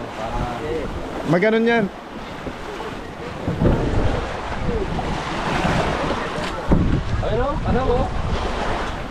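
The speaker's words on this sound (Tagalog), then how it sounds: "okay lang kasi malaki ang alon eh" Large ocean waves slosh and surge around a small boat at sea under strong wind buffeting, with loud swells rising and falling as people talk briefly aboard.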